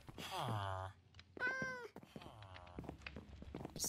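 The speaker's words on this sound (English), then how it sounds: "trying to tame a kitty cat!" A tamed cat in the Minecraft video game gives three distinct, clear meows with short pauses between them, followed by softer game sounds.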